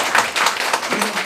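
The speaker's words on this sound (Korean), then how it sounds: "큰 박수 한번." An audience at a community gathering in a Red Cross hall claps in brief, loud bursts of applause with a rhythmic pulse, close and crowded.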